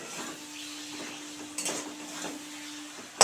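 Fresh green peas are tipped into a pan of hot spiced oil, with soft sizzling, a few light clinks of utensil against the pan and a sharp clatter at the end.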